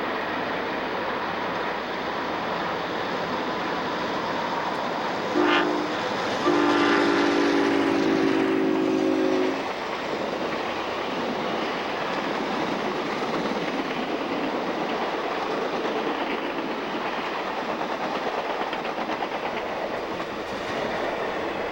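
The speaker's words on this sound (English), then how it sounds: "The Cincinnatian passing through blows a low whistle out of respect for the flag" The Cincinnatian, a B&O passenger train, rolls past with a steady rumble of wheels on rail and sounds a low whistle in two blasts, the second longer, before the passing noise continues alone.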